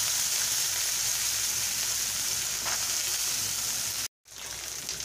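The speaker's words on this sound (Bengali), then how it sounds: "এবারে আমি এখানে ছোলা ভিজিয়ে রেখেছিলাম, ছোলাটা দিয়ে দিলাম।" Soaked chickpeas sizzle and fry in a hot pan with oil, a steady bright crackle throughout, cut by a brief silent gap near the end before the sizzle resumes.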